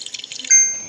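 Water splashes into white glue while crunchy slime is made, a short run of quick bubbly drips that ends in a brighter ringing pour, close and loud.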